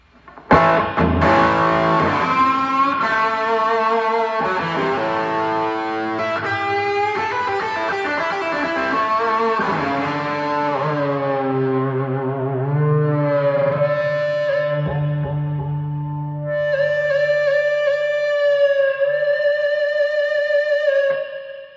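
Electric guitar through the dirty channel of a Fuchs amp, thick distorted chords and sustained notes ringing out with effects and echo, loud and continuous, ending on held higher notes, with no talking.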